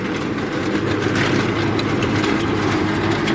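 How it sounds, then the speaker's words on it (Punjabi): A new tractor runs with a super seeder attached, a loud continuous engine drone with heavy low rumble and broadband mechanical noise throughout. "ਆਪਣੇ ਯਾਰ ਨੇ ਲਿਆਂਦਾ ਨਵਾਂ ਟਰੈਕਟਰ ਤੇ ਸੁਪਰ ਸੀਡਰ"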